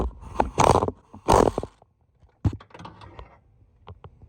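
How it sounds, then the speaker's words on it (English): Ratchet on an 18-inch extension and swivel loosening the starter bolts on a Honda Civic, giving a few loud bursts of clicking and clanking metal, then quieter rattles and taps, with no talk. "To get to the two bolts that's holding to the starter, I'm using my 18-inch extension,"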